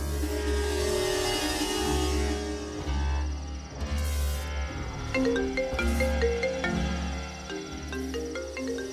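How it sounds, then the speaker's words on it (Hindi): A melodic electronic ringtone plays loudly and continuously, repeating a short tune over a steady low backing. "दस्तगीर फोन कर रहा है।"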